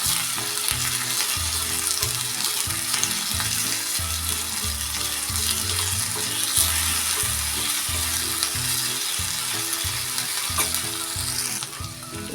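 Tempering for a South Indian tomato chutney sautés in a pan with a strong, steady sizzle and crackle, overlaid by rhythmic low scraping and stirring strokes throughout.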